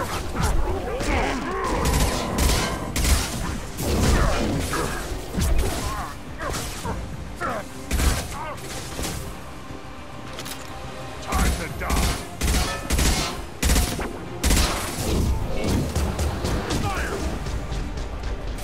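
Rapid gunfire and impacts from the Mass Effect 2 video game during a firefight, dense bursts of shots and crashes throughout, with a voice talking over the combat.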